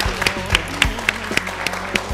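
Audience applause from a crowd, a short burst of rhythmic, evenly spaced claps at close range with no talking over it.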